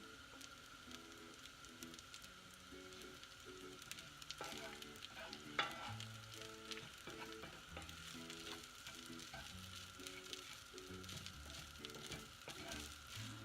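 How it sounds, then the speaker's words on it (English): Rice stir-frying in a basic frying pan for Chinese fried rice with beef and egg, a steady close sizzle with scraping and flipping strokes of the spatula throughout, no voices. "You can start flipping it when you hear a lot of sizzling."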